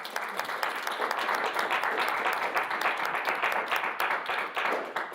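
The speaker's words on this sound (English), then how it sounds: "A round of applause for Manon." A conference audience at a blockchain gaming talk gives a sustained round of applause for the presenter, dense overlapping claps at moderate distance lasting the whole stretch.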